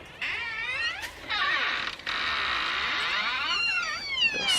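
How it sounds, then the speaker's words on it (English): A door creaks open slowly at home, giving a long, fairly quiet, wavering squeal that holds on with brief breaks and no talking. "Let's go ahead and open this door and let the puppies go potty."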